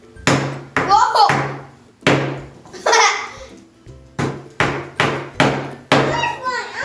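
Nails being hammered into a wooden bird feeder, with about ten sharp, loud strikes at an irregular pace, close by. A child laughs and squeals between the blows.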